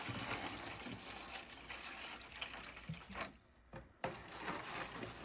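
Water runs from a tap into a container, a quiet splashing stream that briefly cuts off near the end before resuming.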